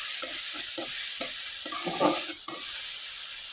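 Onion with salt, turmeric, ground spices and a splash of water is stirred in a frying pan. A steady, close sizzle runs throughout, with regular scraping strokes of the stirring utensil and no voices.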